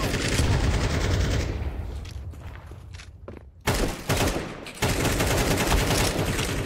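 Rapid bursts of automatic gunfire from a tactical shooter game crackle loudly, with a short quieter gap in the middle before dense firing resumes.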